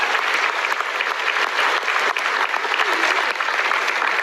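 Audience at a Canadian Conservative leadership debate applauds the candidates, a dense, steady wash of clapping filling the room without a break.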